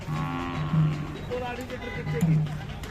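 A cow moos twice in low, drawn-out calls close by, with faint background talk and farmyard noise between the calls.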